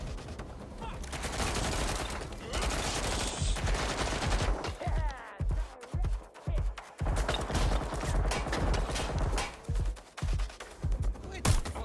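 Rapid bursts of gunfire fill a Watch Dogs: Legion firefight, a dense fusillade of shots and automatic fire with sharp individual cracks later on, loud and close, mixed with other game sounds throughout.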